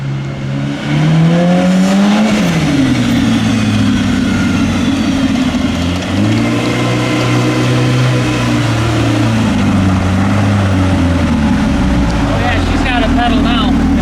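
Ibexx Turbo Pro R snowmobile turbo engine running on a dyno, a loud sustained roar whose pitch rises and falls through several revs, with people talking over it.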